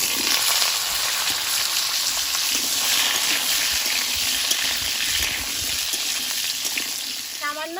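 Potatoes fry in hot oil in a wok with five-spice tempering, giving a steady, loud broadband sizzle that holds through the whole stretch, with faint stirring and scraping and no talk.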